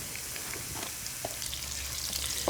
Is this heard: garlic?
yes